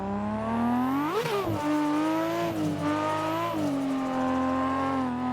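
A car in Assetto Corsa driven with clutch kicks: a loud, close engine revs sharply up and drops twice, with a tire squeal and a sustained high whine between the throttle blips.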